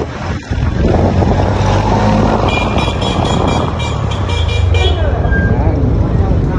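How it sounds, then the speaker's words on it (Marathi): A loud, steady wash of stalled traffic at a jam near Neral market, with car and bus engines rumbling, intermittent horn toots over the din, and voices mixed into the noise throughout. "काय आता परत ट्रॅफिक जाम झालाय"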